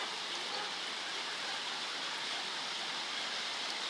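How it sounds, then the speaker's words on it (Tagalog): Heavy rain pours steadily in Canlaon City, Negros Oriental, a dense, even hiss with no breaks for the full four seconds and no voices. "Lakas ng ulan, hindi ako makalabas."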